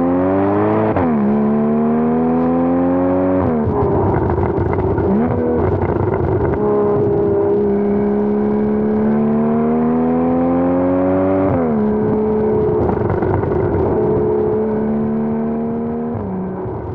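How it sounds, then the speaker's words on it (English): A Porsche Boxster's flat-six engine revs loudly through successive gears, each pitch climb broken by a shift drop, sounding close and continuous with no voices. "the flat six screaming towards red line with each gear change"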